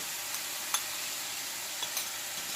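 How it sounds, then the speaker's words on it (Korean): Gochujang seasoning sizzles steadily as it fries in a pan on an induction cooktop, a constant crackling hiss broken by a few brief stirring scrapes, close and moderately quiet, with no talking. "양념을 먼저 구워줍니다"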